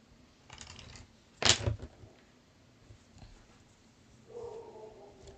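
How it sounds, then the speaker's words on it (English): A pet dog barks at something indoors, a short loud burst of barks around the middle of the clip over quiet room noise, with a fainter tonal sound near the end. "I don't know if you can hear my dog barking at something"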